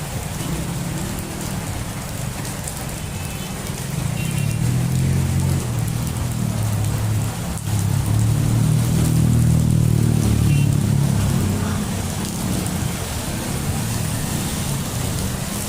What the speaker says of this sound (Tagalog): Naabot tayo ng ulan.